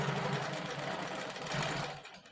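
A long arm sewing machine stitches quilt binding in a steady, continuous run, its fast needle rhythm holding even and close for a couple of seconds before slowing at the end.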